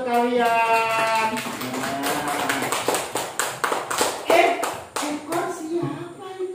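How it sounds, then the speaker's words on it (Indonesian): Children in a classroom clap their hands in a run of sharp, fairly even claps, close and loud, with a child's sung or spoken voice over the start and chatter continuing through. "Kasih tepuk tangan dong untuk kalian."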